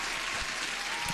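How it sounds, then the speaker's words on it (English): Steady, dense applause from many hands, a continuous even wash of clapping at moderate level with no gaps, likely an inserted applause effect during a live trading session. "so I think we deserve an applause."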